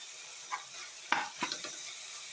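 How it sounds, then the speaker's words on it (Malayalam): Chili powder, turmeric, ginger and green chili get stirred in a pan, with a faint sizzle under a few distinct scraping strokes of a spoon, quiet and close, no voices. "ഇത് പച്ചമണം ഒന്ന് മാറാൻ വേണ്ടി ഒന്ന് ഇളക്കി കൊടുക്കുക"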